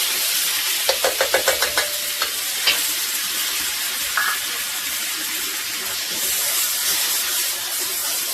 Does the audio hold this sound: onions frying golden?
yes